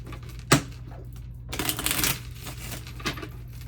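Tarot cards riffle and shuffle close by in quick papery bursts, with a few sharp taps in between in an otherwise quiet room.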